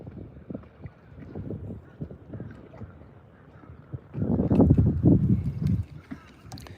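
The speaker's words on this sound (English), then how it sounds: "So the wind is starting to pick up a little bit. Can you guys hear the wind?" Wind gusts over open water while bass fishing from a boat, a low rumbling buffet that swells loudly near the end, with scattered knocks and handling noise.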